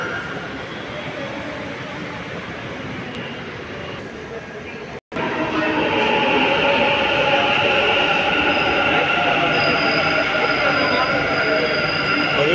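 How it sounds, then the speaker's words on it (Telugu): A Bengaluru metro train pulls into a station with a loud, steady roar of wheels and motors, squealing rail tones and hum filling the platform after a brief break. "ట్రైన్ వచ్చింది కదా"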